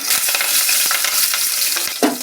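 Tempering is tipped into a pot of egg curry, giving a steady close-up sizzle and hiss with light stirring scrapes and taps throughout, and a brief louder burst near the end.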